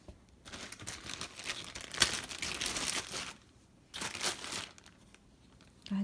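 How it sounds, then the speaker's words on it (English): Soft polyfill stuffing gets pushed into a small crocheted yarn eyeball, giving two long bouts of close, crinkly rustling separated by a quiet pause. "now we're going to begin stuffing the eyeball with polyfill"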